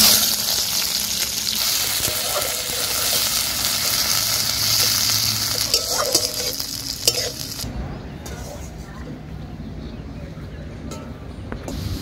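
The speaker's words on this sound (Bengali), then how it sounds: "ফোড়নটা বেশ ভাজা হয়ে গেছে, দিয়ে দেবো পেঁয়াজ কুচি।" Chopped onions hiss and sizzle loudly in hot mustard oil in a wok, with steady frying crackle and occasional stirring scrapes before the sizzle quiets; a voice talks over the cooking.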